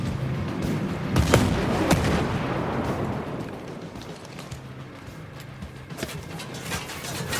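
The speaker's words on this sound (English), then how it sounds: "Mortars on the way." Mortar strikes in the video game Ghost Recon Breakpoint, a run of booming impacts and rumbling blasts, loud at first and then tapering off, with a few sharp cracks near the end.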